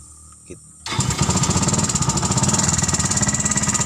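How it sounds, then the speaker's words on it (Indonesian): A small car fitted with a motorcycle engine is started: a quiet pause, then the engine catches abruptly and settles into a loud, rapid, evenly pulsing idle up close. "Oke teman-teman, coba kita starter"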